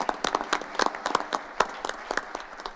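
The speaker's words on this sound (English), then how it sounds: "So let's give that a big round of applause." Scattered applause from a small audience at a school board of education meeting, a few people clapping briskly for under three seconds in an indoor room.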